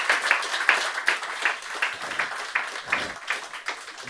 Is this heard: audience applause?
yes